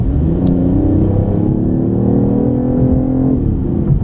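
A BMW i8 plug-in hybrid revs loud and close, its engine note holding a steady tone before climbing briefly near the end, with no voices.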